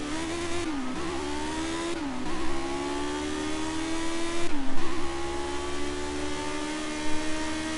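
Race car engines drone loudly and steadily at the finish line, with a whining pitch that dips and climbs again three times as gears change. There is no talking.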